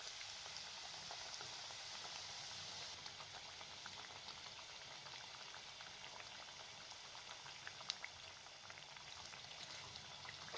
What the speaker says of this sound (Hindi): ऑयल जब तेज़ गर्म हो जाए तो इसके अंदर तमाम समोसे डाल के ब्राउन कर लें